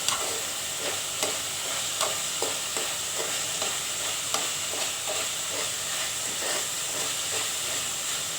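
Sprouts (molakalu) tempered with thaalimpu frying in a pan while being stirred, a steady close sizzle broken by regular spoon scrapes about once a second, with no voices.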